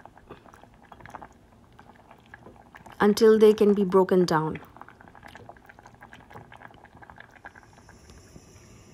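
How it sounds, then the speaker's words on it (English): A soft, continuous bubbling of water at a boil as potatoes and peas cook until mushy for pav bhaji, running throughout, with a voice speaking briefly over it in the middle. "Here the potatoes and peas are boiling until mushy"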